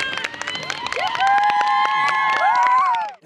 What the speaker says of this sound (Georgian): ტაში და აპლოდისმენტები მადლობის სახით